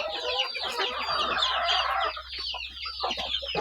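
A rooster and a hen cluck close by in a backyard laying flock, a dense run of overlapping squawks and clucks that eases into sparser calls, with no talking.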